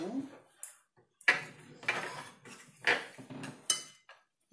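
Spoon clinking and clattering among dishes in a home kitchen, several sharp separate knocks and scrapes at close range, with a cat meowing and a person talking briefly at the start.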